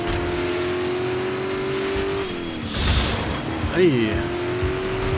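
Racing cars drive on an ice track in Dirt 5, with a steady engine drone that rises as the car revs. A brief burst of road noise follows, and someone talks over the engine.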